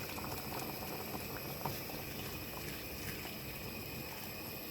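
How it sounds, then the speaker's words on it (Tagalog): Hot water pours and bubbles into a cooking pot of pork belly sinigang, a soft, continuous gurgling and sizzling at low volume, no voices. "lagyan na natin siya ng water, mainit na tubig"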